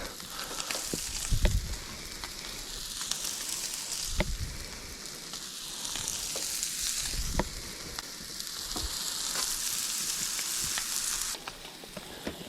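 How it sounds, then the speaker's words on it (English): Fish sizzles steadily in hot bacon grease in a pan, a loud continuous crackle and hiss punctuated by occasional thumps and stirring knocks, with no talking. "All that bacon grease looks good, and that is where the fish is about to be cooked."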